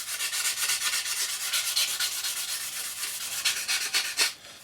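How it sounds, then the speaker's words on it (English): Sanding sponge rubbed steadily back and forth over a 1/48 Eduard MiG-29 plastic model kit part, a close, continuous scratchy hiss with quick repeated strokes that stops abruptly near the end. "Okay, then cut to a sanding sponge."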